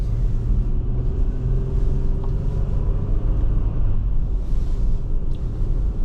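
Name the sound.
car driving on a curvy road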